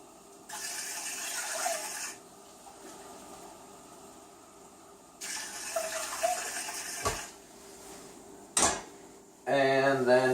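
Tap water runs into a measuring cup in bursts, with two longer pours separated by quieter pauses, a brief clink near the end, and a rising filling tone in the final second as the cup nears full.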